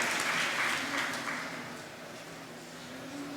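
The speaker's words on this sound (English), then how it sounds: "Let's have a round of applause, please, for our first startup this afternoon" Audience applause for a startup pitch at a SiGMA Pitch iGaming event in Malta, a steady wash of clapping from a seated crowd, moderately loud at first and easing slightly toward the end.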